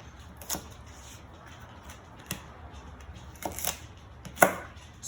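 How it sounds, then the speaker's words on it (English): A knife cuts through fennel petals on a cutting board while roasted vegetables are prepared, a few separate close chops and knocks spaced out over quiet background. "Back to your petals of your fennel, and you can cut those"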